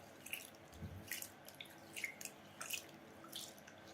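Pulao rice being rinsed in water, with soft intermittent splashes and drips as grains are swished and drained, close and fairly quiet, no talking.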